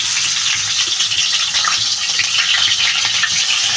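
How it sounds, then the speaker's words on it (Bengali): A catla fish head sizzles in hot oil, producing a steady, loud, dense crackle that continues without a break. "তেলটা আমার গরম হয়ে গেছে বন্ধুরা আমি এবার মাথাটা দিয়ে দেবো"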